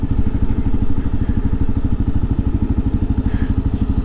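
A 2022 Kawasaki KLR650 motorcycle riding with a steady, loud, throbbing single-cylinder engine note close to the microphone, holding an even rhythm throughout with no clear shift break.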